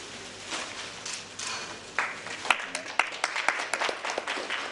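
Applause for dignitaries at a national seminar: a broad, crowd-wide clatter of clapping that swells partway through and keeps going, moderately loud in a large hall, with a voice heard over it.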